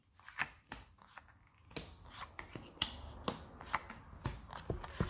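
Tarot cards handled and drawn for a reading, with soft flicks, slaps and shuffling snaps close by, irregular and fairly quiet, no talking.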